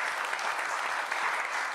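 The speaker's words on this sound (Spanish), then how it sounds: "Un aplauso." Dense, bright applause fills a panel session on Mexican muralism, a continuous burst of many hands clapping at close range.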